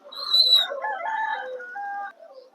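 A native rooster at a country fowl market crows once, loud and close, a single drawn-out call of about two seconds standing alone.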